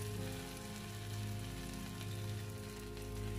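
Hilsa fish wrapped in bottle gourd leaves frying in a little oil in a pan, giving a steady, soft sizzle that stays even throughout with a faint background hum and no voices.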